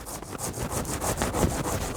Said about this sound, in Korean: 자, 그 다음에 마지막 여기 밑에 이 가지까지 잘라놓고 작업을 좀 하겠습니다.